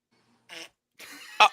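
A couple of short, close coughs, one brief burst then a rougher pair ending in a sharp louder hack, separated by silence.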